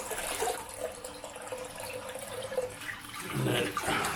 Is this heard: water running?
yes